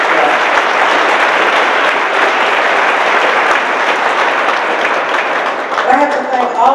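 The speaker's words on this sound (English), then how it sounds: "Give Peralta another applause." Sustained, loud audience applause fills a lecture hall at a civic lecture series event, a dense unbroken wash of clapping that thins slightly at the very end.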